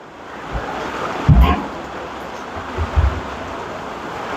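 Heavy rain pours steadily outdoors beside a drum smoker cooking chuck roast chili, a dense continuous wash of noise with a couple of low thumps and bumps near the microphone.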